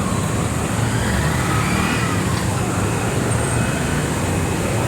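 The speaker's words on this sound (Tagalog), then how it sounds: "So, ganyan pag traffic dito." Steady road traffic in a jam, with a dense, continuous rumble of idling and slowly moving cars, buses and trucks close by. It stays at an even level throughout, with no clear voices over it.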